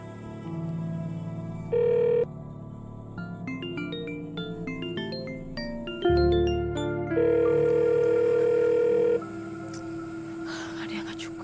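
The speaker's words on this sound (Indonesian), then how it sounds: "Coba telepon Livi." A phone chimes with a melodic ringtone, a sequence of bright electronic notes repeating over several seconds, with a few soft sounds in between.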